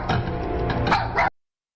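A dog barks a few quick times, close and fairly loud, then cuts off abruptly into silence after about a second.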